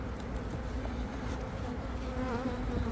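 A steady, close insect buzz drones without pause over a low rumble, the high whine of a hornet hovering near native honeybee hives.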